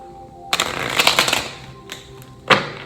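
Tarot cards are shuffled by hand in bursts, with a quick riffling flutter followed by a pause, then two shorter sharp riffles, close and clear with no talking.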